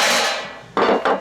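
Rivets are hammered into a Kydex holster made for an airsoft Desert Eagle, giving two sharp, close metallic strikes after a fading ringing tail.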